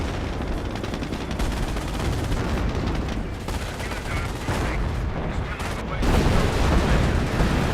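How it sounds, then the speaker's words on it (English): A 20cm rocket barrage in Company of Heroes, a dense, continuous roar of rapid explosive impacts and gunfire, loud and sustained with a heavier burst near the end, a voice faintly underneath. "I think that was 20cm rocket barrage."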